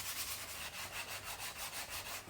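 Rhythmic hand sanding on the wooden body of a DIY Les Paul guitar kit, close and soft, with even back-and-forth strokes of roughly two per second.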